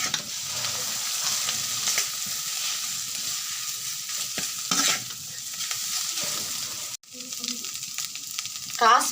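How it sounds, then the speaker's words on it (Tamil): Grated coconut and onions stirred in a hot pan for onion thoran, a steady close sizzle and frying hiss with scraping stir strokes throughout, briefly interrupted near the end. "போட்டுட்டு அதை கிளறி விடணும்."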